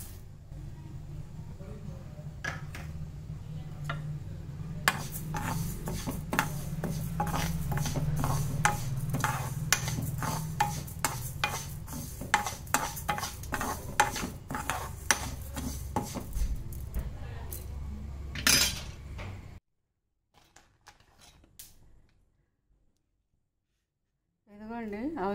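Flax seeds dry-roasting in a pan, stirred with a spoon that scrapes and taps the metal in quick repeated strokes over a low hiss of heat; the stirring stops and the pan goes quiet near the end.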